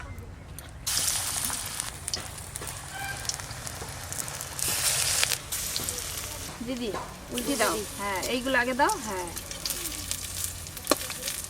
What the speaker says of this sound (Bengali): এবার আমি বড়াগুলো ভেজে নেব